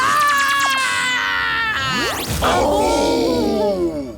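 Scream sound effects from a TV show ring out loud and close: overlapping high shrieks and wails, one sweeping down in pitch, with a dense, chaotic continuous wall of voices.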